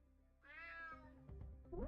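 A cat meows once in the prison-escape video game Unmetal, a clear drawn-out mew followed by soft footsteps and clatter; quiet overall.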